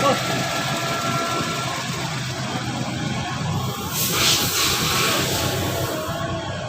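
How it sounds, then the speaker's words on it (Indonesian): Toyota Starlet car engine idling steadily after a light service and oil change at a workshop in Depok, a continuous close rumble with a brief brighter hiss partway through. "Kalau kemarin kan kurang optimal banget kalau dengerin suara mesinnya, sekarang ini lebih enak didengarnya."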